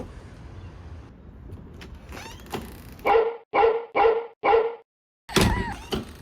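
Several loud barks in a quick series of four, close by, then a burst of sharper barking after a brief pause, over faint background noise.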